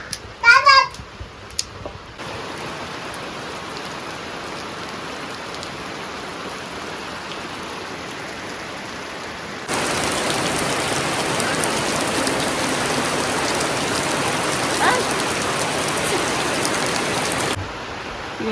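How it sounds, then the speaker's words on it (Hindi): Heavy rain falling outside a village home, a steady hiss of downpour that thickens and grows louder for several seconds mid-stretch, after a brief burst of a voice at the start. "बाहर बहुत ही बारिश चल रही है"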